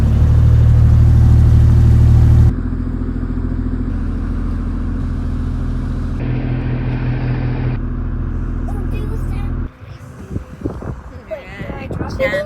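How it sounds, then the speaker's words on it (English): The engine on a 37ft catamaran runs as a loud, low, humming drone that drops in level and shifts pitch a few times, then gives way to quieter, irregular sounds. "I have to start the engine and turn the heater on"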